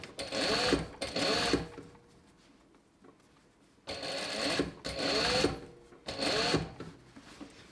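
A sewing machine runs in several short whirring bursts with pauses between them while stitching an invisible zipper, close and clear with no talking.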